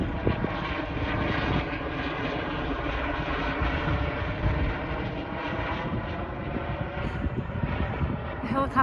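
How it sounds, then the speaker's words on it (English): A steady, loud engine drone of an emergency helicopter passes overhead in the Swedish mountains with a continuous rumbling roar. "Helicopter had a cross on it"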